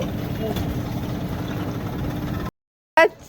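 A motorbike engine runs with a steady low idling rumble for a few seconds, then cuts off abruptly into silence before a brief voice is heard.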